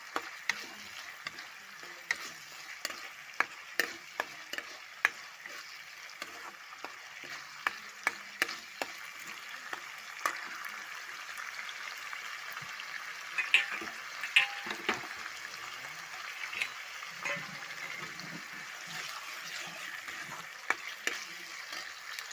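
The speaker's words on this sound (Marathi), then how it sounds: "हे टमाटर टाकते मी यामध्ये. याला शिजू देते थोडा वेळपर्यंत." Chopped tomatoes cooking in a pan for mushroom bhaji give a soft, continuous sizzle, with scattered light clicks and taps from stirring across the whole stretch.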